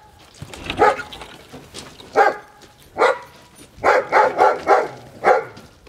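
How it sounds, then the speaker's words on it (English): A chained-up dog outside a house barks repeatedly nearby, sharp barks in an uneven rhythm with a quick cluster toward the end, loud and clear with no talk. "Pat, there's one dog. He's chained up"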